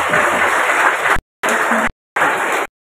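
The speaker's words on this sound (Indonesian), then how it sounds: "Tepuk tangan untuk Deputi" An audience at a school event in Cirebon applauds a bank deputy; dense clapping comes in three bursts separated by sudden gaps of silence, loud and close.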